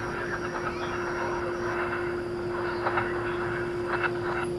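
A 13-year-old Airbus A330-300 at DFW Airport at night gives off a steady jet engine hum with a sustained tonal whine, moderately close and continuous.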